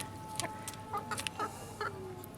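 Chickens cluck in short, scattered bursts close by while eating biryani, with soft pecking and scratching sounds between the calls.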